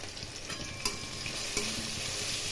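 Sugar with cumin and coriander powder fries in oil in a home kitchen pan, giving a steady sizzle with a couple of sharp stirring knocks.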